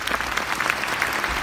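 A seated audience claps steadily for Jeju Governor Won Hee-ryong at a formal event, an even, full round of applause throughout.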